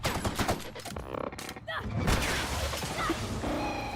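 Rapid bursts of gunfire and fusillade from a combat scene in the video game The Outer Worlds, loud and dense with booming hits throughout, mixed with a speaking voice.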